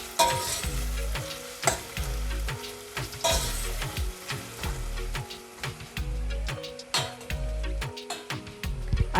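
Onions frying in a pot over medium-high heat while being stirred constantly, with rhythmic spoon scrapes and knocks against the pot over a continuous sizzle; close and clear, no talking.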